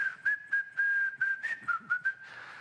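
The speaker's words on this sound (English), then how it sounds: "You could just be whistling jingle bells." A person whistles a Christmas tune, Jingle Bells, in a clear, close, steady melody of short phrased notes with brief breaths between them, alone with no talking.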